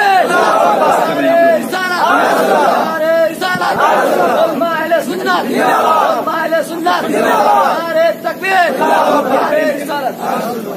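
A large gathering at a religious Islamic address in Jharkhand chants the Nara-e-Takbir slogan in loud, rhythmic call-and-response bursts, many voices rising and falling together in repeated waves.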